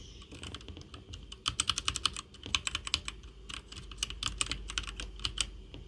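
Rapid typing on the computer keyboard of a gaming setup, clicking keystrokes in irregular bursts that grow denser midway, close and fairly loud with no talking.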